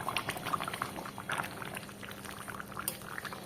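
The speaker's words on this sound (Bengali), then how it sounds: "ঝোল ফুটছে" Jackfruit curry made with goat fat, its thin gravy bubbling steadily in a pan, a continuous close crackling simmer with no talk.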